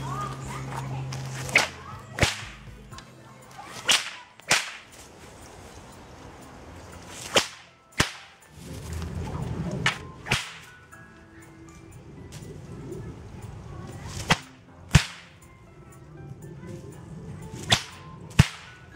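A homemade paracord bullwhip delivers a series of sharp, loud cracks outdoors, about a dozen irregularly spaced snaps over a low rustling background with brief movement noise between strikes.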